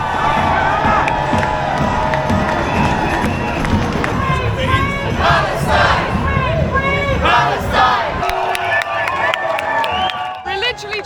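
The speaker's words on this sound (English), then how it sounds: "We've just been given an enormous applause." A protest crowd about to join a march over arms sales to Israel cheers, shouts and claps loudly all around, with voices rising through the din before it thins near the end.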